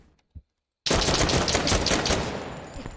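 Tactical shooter video game gunfire: after a faint thump and a brief silence, a loud, close, rapid string of shots rings out continuously, with extra rounds fired into an armored target.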